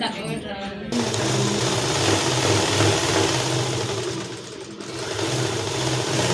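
Sewing machine stitching a folded edge on a sari petticoat near the drawstring: a continuous close mechanical whir that briefly drops out near the start and again about two-thirds of the way through.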